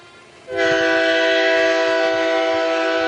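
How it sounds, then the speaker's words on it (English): In a stage drama, a train horn blasts suddenly after a half-second of low murmur, then holds as a loud, steady, multi-tone blare to the end. "Is it our train that's moving?"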